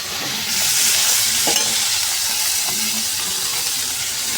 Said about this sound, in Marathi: चांगली परतून घ्यायची आहे गवार तेलामध्ये।